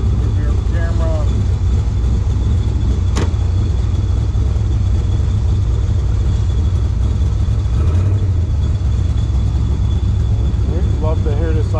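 A Factory Five Cobra replica, titled as a 1966 Ford, idles through side pipes with a loud, steady, deep rumble that runs throughout, and a voice briefly speaks over it.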